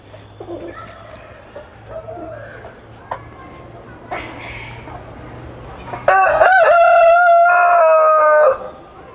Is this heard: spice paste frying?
no